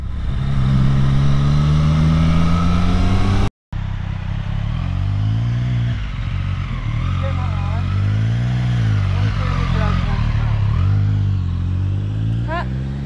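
A Triumph Street Triple 765 RS motorcycle engine hums and revs nearby with a steady throaty drone, its pitch rising and falling as riders pass, briefly cut off, while voices talk over it.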